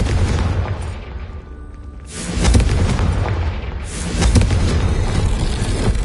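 Confringo explosion spell in Hogwarts Legacy, a loud close burst that erupts into two deep rumbling booms over a continuous roaring background, with no voices.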